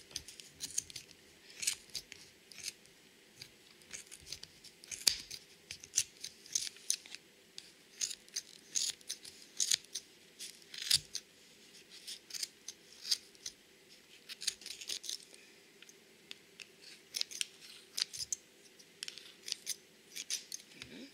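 Scissors repeatedly snipping yarn while making a Rainbow Loom knitted hat, many crisp, close clicks and cuts in irregular runs throughout, with no talk.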